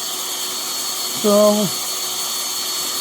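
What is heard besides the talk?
power drill drilling a hole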